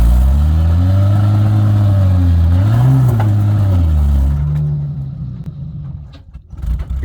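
A Nissan Y62 Patrol engine revs hard and steady while four-wheel driving, the pitch rising and dipping, then the drone eases off toward the end, leaving quieter, uneven engine noise.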